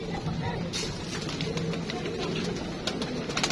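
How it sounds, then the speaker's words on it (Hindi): Low pigeon coos murmur repeatedly on a rooftop through a busy, noisy background, with a voice speaking over them. "कबूतर शबूतर आपके सामने फिर रहे हैं"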